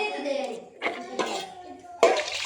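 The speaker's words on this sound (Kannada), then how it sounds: "ಇವಾಗ ಪಾತ್ರೆ ತೊಳಿತೀನಿ ಬಿಸಿಲಲ್ಲಿ." Dishes and pots being washed outdoors in the sun at a grandmother's house clatter and clink in several sharp bursts, close by, with someone talking throughout.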